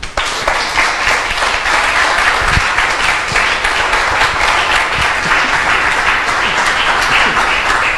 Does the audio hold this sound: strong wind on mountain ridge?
no